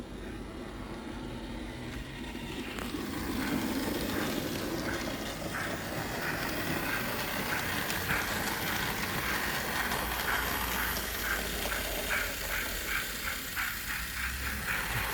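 A small model train locomotive chuffs steadily on a layout, a faint rhythmic puffing over low running hum that quickens gradually as the loco gathers speed, with no talk.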